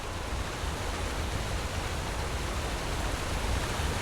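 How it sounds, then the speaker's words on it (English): Rushing water in the fantasy game Enderal Forgotten Stories, a loud, steady broadband roar like a waterfall or torrent, constant and unbroken with no voices over it. "More loud water."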